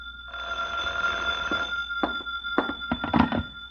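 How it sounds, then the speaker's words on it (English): An old-time radio drama telephone rings: a close, bright bell trill sounding alone for over a second, followed by several shorter clattering rings and bursts. "Now he's phoning the Falcon"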